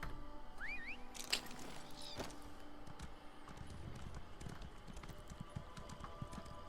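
Horse hooves clip-clopping at a steady riding pace in The Elder Scrolls Online Morrowind, with light rhythmic thuds, a few brief chirps and clicks over a quiet game ambience, and no talk.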